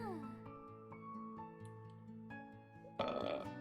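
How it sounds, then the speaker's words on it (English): A single burp comes from a person streaming a dating sim game. It is short and fairly quiet, heard over soft, tonal game music. "I'm sorry, I had to burp."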